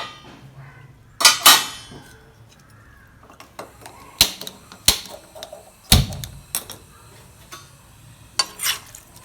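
Marinated chicken being stirred on high heat in a dry pan with no oil, a spoon scraping and clanking against the pan in sharp, uneven strokes over a soft sizzle, with no one talking.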